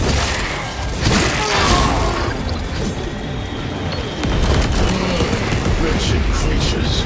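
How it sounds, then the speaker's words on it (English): Battle noise from the Space Marine 2 video game during an airstrike: dense, loud rolling gunfire and booming explosions fill the whole stretch, with shouting voices mixed into the chaos. "Airstrike incoming!"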